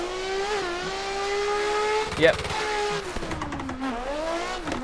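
A BMW E36 race car, a convertible build, pulls hard on a banked track with its engine note climbing through gears without lifting. A brief tire squeal or skid comes near the middle, and a voice speaks briefly over the engine.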